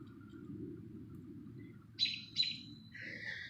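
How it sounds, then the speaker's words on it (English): A bird in a vegetable garden with corn and melons gives two sharp chirps and then a softer, drawn-out call, clear over a low rumble of background noise. "Can y'all hear that bird?"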